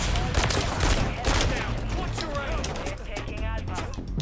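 Dense rapid gunfire from the Call of Duty Modern Warfare 3 video game, with loud overlapping bursts and shots firing continuously across the whole stretch and talk mixed in underneath.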